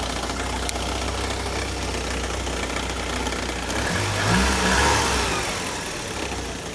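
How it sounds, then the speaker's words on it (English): A Saab car engine idles steadily with a continuous low mechanical hum, close by, swelling slightly in roughness midway before settling again, with no talk over it. "So with the car running, it's"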